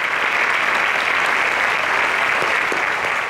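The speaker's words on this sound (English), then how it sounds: "A round of applause for that." Steady, dense applause from a studio audience at a national science competition quiz show in Nigeria, loud and continuous without a break for the full length, with no talk over it.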